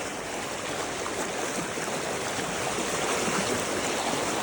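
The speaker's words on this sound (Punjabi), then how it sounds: "ਇਹ ਬਈ ਅੱਜ ਦਾ ਇਹ ਸਤਲੁਜ ਦਾ ਪਾਣੀ ਹੈ" Sutlej river floodwater flowing past a village near Bela Ramgarh, a dense steady rushing roar of water, continuous and fairly loud with no speech.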